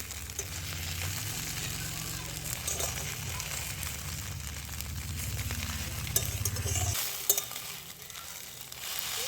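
Maggi noodle omelette frying in a pan: a continuous close sizzle and crackle with occasional scraping, the low frying tone dropping away near the end, no talk.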